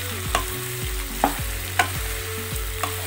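Chicken masala frying in a pan in an Indian home kitchen, with a spoon scraping and stirring in repeated strokes over a steady close sizzle; no voices.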